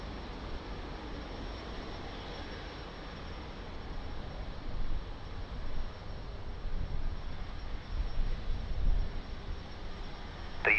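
An Airbus A320neo's jet engines run with a steady broadband rumble and hiss as the airliner lines up for departure at Lisbon Airport, a constant moderate roar that swells slightly toward the end, with no talk.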